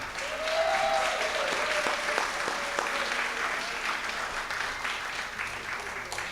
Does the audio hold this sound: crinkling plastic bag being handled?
no